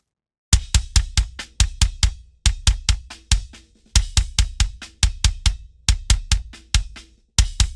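A punchy kick drum, close-miked from inside for a punk rock recording, thuds alone in quick driving patterns of eighth notes, close and dry, with short pauses between phrases.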